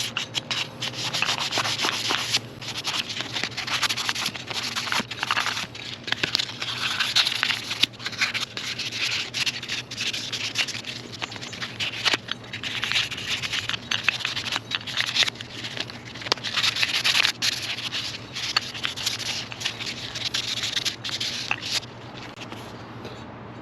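Steady, close scrubbing rasps continuously as heat marks are worked off a Yamaha V Star 650 motorcycle clutch pressure plate, with a dense rhythmic rubbing texture and no talk.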